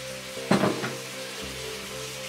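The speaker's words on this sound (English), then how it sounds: "Carry on stirring." Food sizzles in a pan while being stirred, a soft steady frying hiss with a brief louder scraping swish of the spoon near the start, close and alone without talk.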